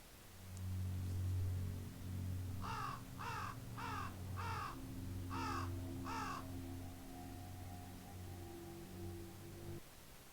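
A raven sound effect in the Mysterium mod for Tabletop Simulator caws six times in a quick series over a steady low hum and hiss of background music.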